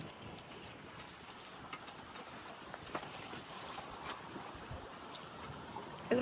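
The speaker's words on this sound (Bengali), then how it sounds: "ওফ জলের অনেক ঢেউ" Water waves lapping during a fishing outing on a calm, nice-weather day, a soft steady wash of water heard alone with faint small splashes throughout.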